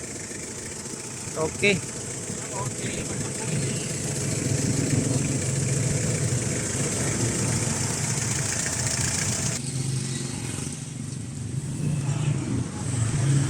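Freshly overhauled engine of an owner-type jeep idling with a steady mid-pitched rumble, close and continuous, while someone talks briefly over it.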